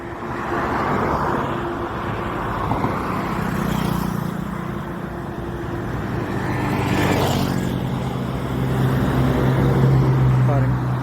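Cars and a Munnar-to-Salem bus move along a hill road near Munnar, with engine rumble swelling and fading as vehicles pass close by in a continuous flow of traffic, and a voice is heard speaking.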